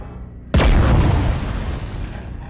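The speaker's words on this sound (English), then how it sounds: "Airstrike initiated." A heavy airstrike explosion in the video game MechWarrior Online bursts in suddenly and loud, then rumbles and decays slowly over a couple of seconds with no talk over it.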